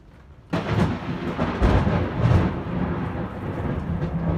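A sudden deep rumble of thunder breaks in and rolls on, loud and close, with rain hissing steadily beneath it, heard from aboard a sailing boat.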